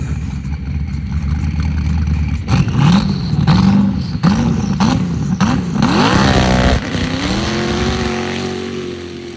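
A built 454-cubic-inch twin-turbo LS V8 in a sand drag buggy at the Dubai dunes revs hard and close in repeated rising blips, then holds a steady high roar before settling.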